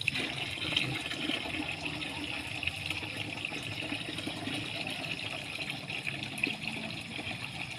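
Water gushing steadily into containers at an outdoor filling spot, a continuous, fairly quiet splashing flow with no talk.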